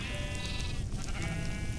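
Sheep bleating in a Minecraft mod while being burned with a fire weapon, a loud wavering bleat that breaks briefly and resumes, close and alone.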